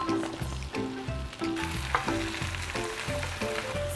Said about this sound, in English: And we're just going to throw in our spinach.